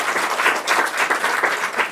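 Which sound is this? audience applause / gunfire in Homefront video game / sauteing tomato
audience applause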